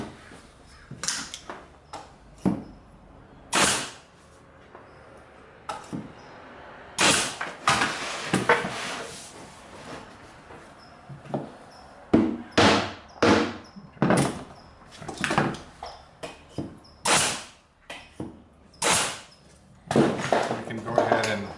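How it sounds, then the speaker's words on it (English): A stapler drives staples into the nailers of a frameless upper cabinet during assembly. It fires in a series of sharp, loud bursts at an irregular pace, with quiet gaps between them. "I'm going to go ahead and put some staples in them so they don't move while I'm driving the screws."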